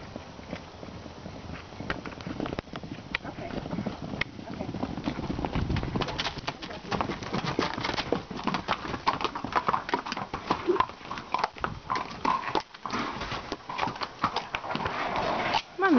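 Horses arriving at a barn at feeding time make a steady patter of hoof clip-clops on hard ground, with pigeons cooing nearby and people talking throughout.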